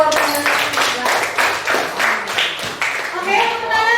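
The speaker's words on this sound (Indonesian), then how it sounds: "tepuk tangan untuk jawaban" Classroom clapping for a correct answer, a quick burst of claps from a group of students, mid-loud and close, with children's voices chattering over the rhythm.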